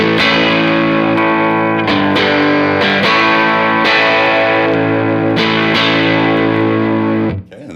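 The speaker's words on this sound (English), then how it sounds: "The sound starts to distort a little bit." An electric guitar plays steady strummed chords through a Fender Deluxe Reverb amplifier, distorting and loud. The chords change a few times and cut off at the end.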